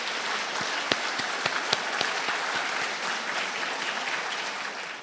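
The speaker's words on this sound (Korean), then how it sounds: "큰 소리로 큰 박수로 환영해 주시기 바랍니다." Large audience gives loud, steady applause welcoming a guest at a government luncheon honoring descendants of independence fighters, dense clapping throughout with a few sharper claps standing out, no talk over it.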